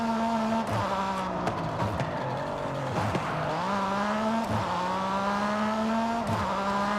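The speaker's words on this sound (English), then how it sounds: "This is a real race car," A race car in the Forza Horizon 5 video game drives hard, its engine droning loudly with repeated quick dips and climbs in pitch as gears shift, a continuous close-up roar with no talking.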